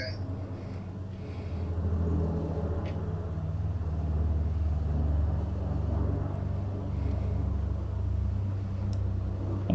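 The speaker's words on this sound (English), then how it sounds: "that sounds like a C-130 in the background outside" A C-130 aircraft passes outside in the background as a low, steady rumbling drone heard indoors, faint and continuous throughout.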